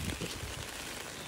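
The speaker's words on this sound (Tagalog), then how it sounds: "So ngayon, oh, mahangin na, ulan." Steady outdoor rain driven by gusty wind, a dense, even hiss that holds at one level throughout with a low rumble underneath and no talk.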